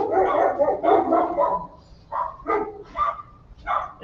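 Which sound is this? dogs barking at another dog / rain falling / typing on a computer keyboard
dogs barking at another dog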